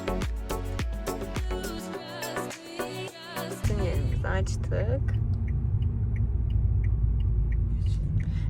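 Car engine idling then pulling away during a driving test at a test ground, a steady low rumble rising after a few seconds, with an instructor talking over it.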